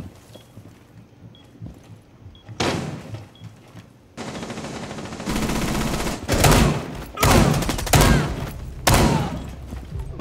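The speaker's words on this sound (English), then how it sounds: "There's a guy above us shooting down." Gunfire in a Rainbow Six Siege bomb match on the Outback map: quiet scuffling, then repeated loud bursts of automatic fire and single shots in rapid clusters, close by and echoing.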